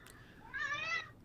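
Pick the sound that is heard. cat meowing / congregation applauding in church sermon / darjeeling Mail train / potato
cat meowing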